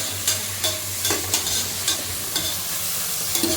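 Tomatoes and potatoes sautéing in a pan for a mushroom and vegetable biryani, a steady hiss of frying under repeated scraping stirs every half second or so, close and fairly loud, with no talking.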